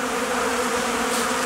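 Honeybees stream out of their hives on a February day, a dense, steady buzzing drone close by with no voices.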